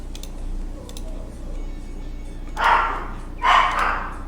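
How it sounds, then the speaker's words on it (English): Dogs in a house-sitting home break into two loud bursts of barking near the end, close by, after a stretch of quiet room noise. "We're house sitting, so the dogs are going crazy"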